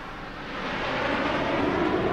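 Military aircraft flying past in beam formation over a Republic Day parade in India, a broad, steady jet roar that swells slightly and holds loud and close throughout, with no talk.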